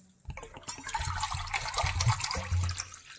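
Water poured into a bowl for semolina flatbread dough, a steady close splashing and gurgling stream lasting a few seconds.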